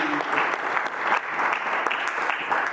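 A live audience applauds a panel of creatives at an iElevate event. The steady, dense clapping from a sizable crowd lasts the whole stretch at an even, fairly loud level.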